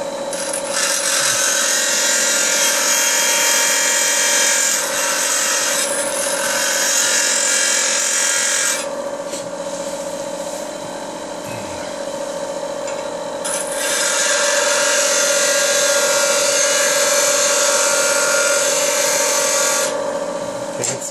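A power tool grinds and rasps against a DIY ACME thread cutter as it is sharpened, a loud, close abrasive whine in two long passes separated by a quieter pause.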